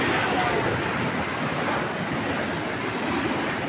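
Strong surf roars steadily throughout, a dense broadband wash of breaking waves with wind rumble and no pauses or voices.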